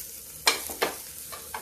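Ingredients sautéed lightly in a pan, a low frying hiss punctuated by two quick scraping stirs and a couple of fainter ones.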